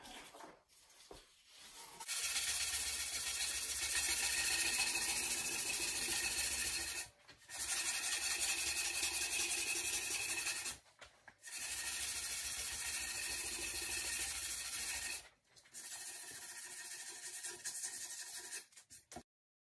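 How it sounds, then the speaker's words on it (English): Abrasive rasping on a wooden sword in four long sustained passes, with short pauses between them, close up and steady. "And that's the sanding."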